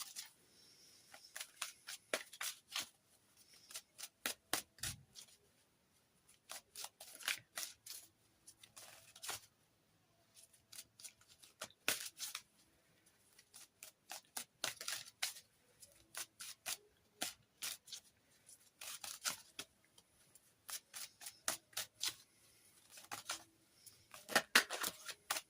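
Tarot cards from the Tarot of the Witch's Garden deck are shuffled and handled close up, giving repeated bursts of crisp riffling and slapping in an irregular rhythm against a quiet room.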